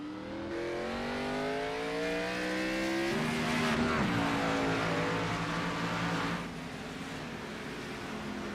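Race car engines roar in an Xfinity Series racing sim at Sonoma, a loud, continuous drone of several cars whose pitch climbs and falls through gear changes and acceleration, with a brief squeal mid-clip and no voices.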